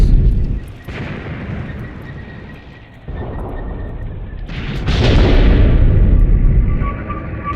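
A huge explosion roars out in a World War II tank battle game set in Tunisia in 1943, with a heavy low rumble, a sharp burst near the end and a long, loud, sustained blast afterward, no voices.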